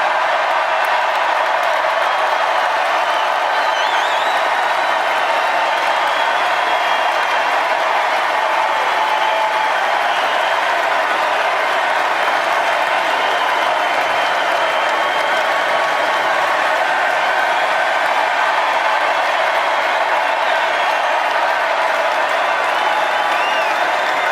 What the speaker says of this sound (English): just take a look at how wild the crowd goes